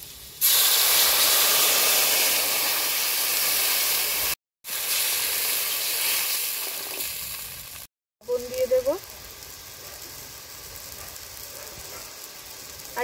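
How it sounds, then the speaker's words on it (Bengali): Water poured into a pan of frying potatoes sets off a loud, steady sizzle and hissing steam that runs for seconds, breaks briefly, then settles into quieter bubbling with a short voice over it. "আলুটা ভাজা হয়ে গেছে, এবারে জল দিয়ে দেবো।"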